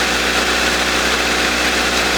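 A carbureted 1.8-liter inline-four car engine with three valves per cylinder idles in a steady, even drone with a low rumble, close and loud throughout, with no voices.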